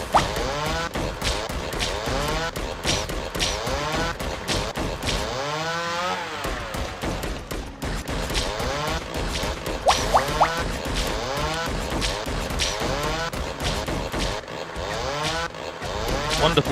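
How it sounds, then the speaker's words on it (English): In the game Defend Your Life, a chainsaw-wielding unit attacks, its buzzing, revving saw whine running continuously and loudly with rising and falling pitch sweeps over busy game effects. "There's my guy with a chainsaw, who's very effective."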